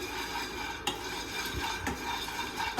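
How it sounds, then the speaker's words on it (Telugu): Peanuts dry-roasted in a pan over low to medium heat, a faint steady sizzle with a few sharp clinks and scrapes of a utensil stirring, close and quiet, no voices. "కొద్దిగా సిమ్లో కానీ మీడియంలో కానీ పెట్టేసుకుని పల్లీలు వేయించేసుకున్నాం."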